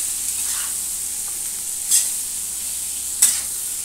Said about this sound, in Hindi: अब अपने लुंगड़ू को भी इसमें अच्छे से मिक्स करेंगे